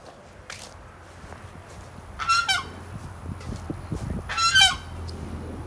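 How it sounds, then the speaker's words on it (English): A flock of geese gathered under a mango tree at a tropical nursery honks in two loud bursts of overlapping calls, with quieter single honks and scuffling footsteps on the ground in between. "Looks like a bunch of geese under it. I think they're waiting to have some mangoes."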